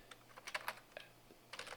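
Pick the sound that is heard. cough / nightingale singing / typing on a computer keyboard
typing on a computer keyboard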